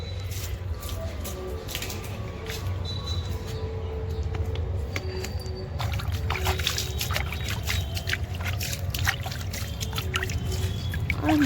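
Water pours and trickles steadily while potted tomato plants are watered outdoors, a continuous close splashing and gurgling with faint rustling and small clinks over it throughout.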